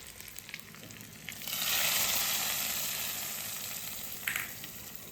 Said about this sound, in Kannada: ಕರಿಬೇವಿನ ಸೊಪ್ಪು ಅದನ್ನು ಹಾಕಿ ಒಗ್ಗರಣೆ ಹಾಕೋತಾ ಇದ್ದೀನಿ ಇಲ್ಲಿ.